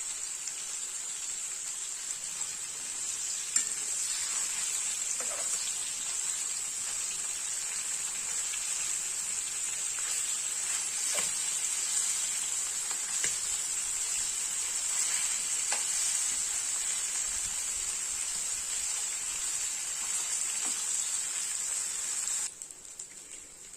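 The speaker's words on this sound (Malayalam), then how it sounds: "ഈ മത്തി 2 സൈഡും നന്നായിട്ട് ഫ്രൈ ആയി വന്നിട്ടുണ്ട്." Kerala-style sardines (mathi) sizzle and fry in oil in a pan, a steady crackling hiss that holds for the whole stretch, with a few faint clinks.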